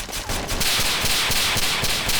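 Pistol gunshots in the video game DayZ on Arma 2, a rapid string of loud sharp cracks fired close together over a couple of seconds, with no talk.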